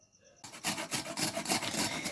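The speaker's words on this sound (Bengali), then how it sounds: "ছাড়িয়ে নিয়ে এখন বিটটাকে ঘষে নিচ্ছে" Peeled beetroot is grated on a grater, giving close, rhythmic rasping strokes in a quick repeated back-and-forth pattern.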